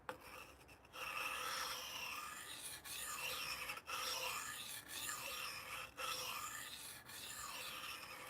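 A knife is sharpened with long sweeping strokes along the blade from tip to heel. Each stroke is a steady raspy rub of about a second, separated by brief pauses, close and clear with no talking.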